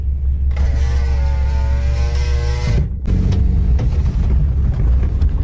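A car drives along a rural village road near Dubrovo, a steady loud engine rumble and road noise from inside, with a whining tone rising over the first seconds, then a brief dip before the rough drive continues.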